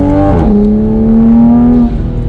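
Tuned Toyota A90 Supra at full throttle, a loud close engine note climbing steadily in pitch through the rev range, then a brief drop as it shifts or lifts off.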